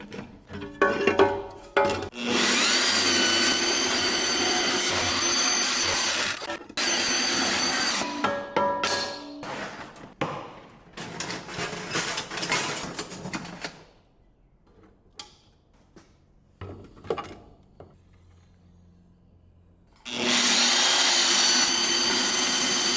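A power tool cuts through a metal battery bracket in loud, sustained bursts with short gaps, close by, ending in a long pause before one final strong burst.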